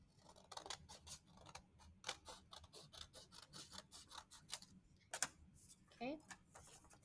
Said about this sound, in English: take your scissors and cut off this excess piece.